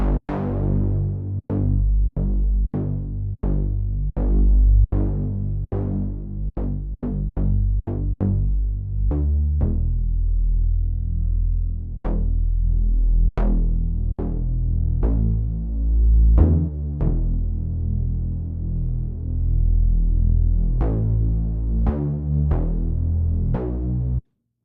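Deep house synth bass from Serum with a filter envelope on the cutoff, a series of punchy plucked low notes in a rhythmic pattern, each with a bright attack that quickly darkens, loud and alone.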